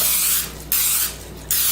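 Cooking spray hisses from a can onto a cheesecake pan in two steady bursts, each about half a second, with a short pause between, close and clear.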